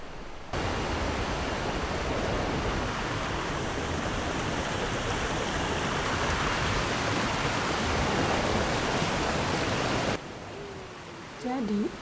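Strong river current rushing beneath a wooden bridge near a waterfall in Lumajang, a loud steady broadband roar of flowing water that holds constant for about ten seconds and then drops away abruptly.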